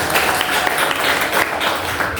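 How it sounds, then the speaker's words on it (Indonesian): Pupils at SMPN 1 Pabedilan applaud a classmate, Rizka, with a dense, continuous round of clapping from many hands that stays loud and even throughout. "Tepuk tangan buat Rizka"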